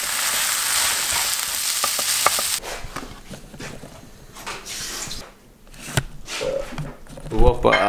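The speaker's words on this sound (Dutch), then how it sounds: "En nu gewoon nog een beetje roeren." Noodles and vegetables fry in a hot pan, a loud sizzle at first, then scraping and clattering stirring strokes with intermittent hissing; a voice speaks over the cooking.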